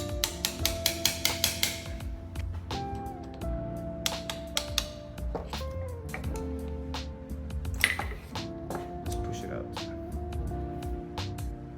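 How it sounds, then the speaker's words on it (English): Metal hammer blows ring out while riser bushings are driven out of a Dyna motorcycle, starting with a fast burst of sharp clanks, then irregular strikes with metallic ringing between them, close and loud. "So now we can hammer out the cylinder in the middle there, the bushings"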